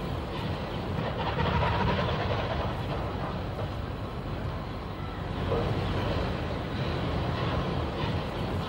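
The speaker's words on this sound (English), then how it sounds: "35029, Ellerman Lines eases a heavy Bournemouth train out of the station." Bulleid Pacific steam locomotive 35029 Ellerman Lines easing a heavy Bournemouth train out of Waterloo station, a steady dense rumble and chuffing wash of engine and carriages, continuous and fairly loud without talk.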